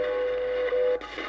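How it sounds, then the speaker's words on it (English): A steady low tone from a shortwave time station in Colorado on 5 MHz, holding clear over radio hiss for about a second before cutting off, leaving only static. "You can hear the low tone there from Colorado on 5."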